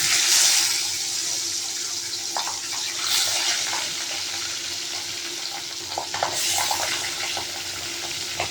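Pubda fish pieces, rubbed with salt and turmeric, fry in hot oil in a pan, giving a steady, fairly loud sizzle throughout with occasional louder spatters and crackles and no voices.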